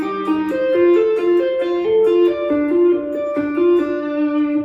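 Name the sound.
guitar tapping first line of Bach's Toccata and Fugue slowly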